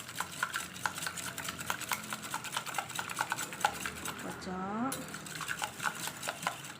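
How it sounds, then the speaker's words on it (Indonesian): Sugar-free sponge cake batter being whisked in a bowl, a steady fast rapid clatter of whisk strokes against the bowl sides, continuous and close, with a brief higher squeaky sweep midway. "habis itu kita whisk dulu sebentar, sekitar 1 menit, 1-2 menit ya"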